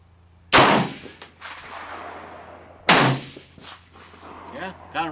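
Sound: gunshot from M1A rifle at range

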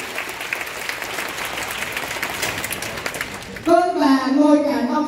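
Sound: audience applause

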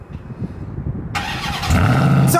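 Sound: Ram 1500 TRX engine cold start

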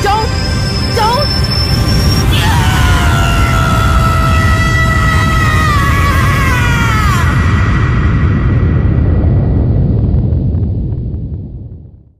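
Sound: person screaming

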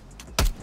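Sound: weapon stock reload in Call of Duty Cold War video game

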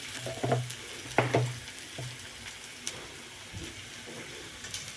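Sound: onions frying in a pan for poha

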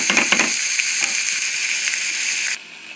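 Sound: mushrooms and zucchini stir frying in a pan

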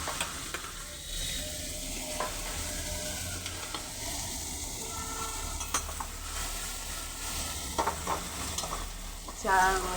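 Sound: small mourola fish frying in a kadai, turned with tongs

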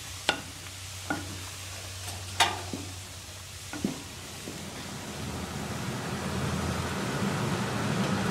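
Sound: stirring simmering fruit with baking soda for cake

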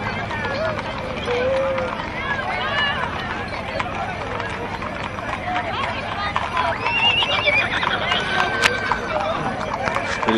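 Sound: horses in Christmas parade on Broadway

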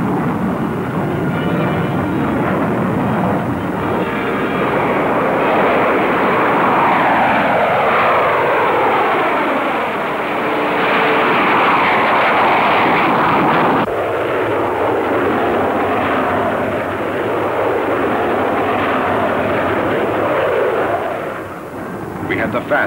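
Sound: military fighter aircraft engines flying

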